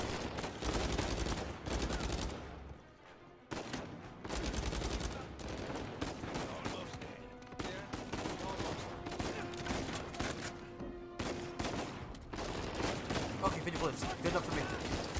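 Video game gunfire in Uncharted 4: rapid bursts of automatic fire and single shots crackling throughout, loud and dense, with a player's voice reacting over the shooting.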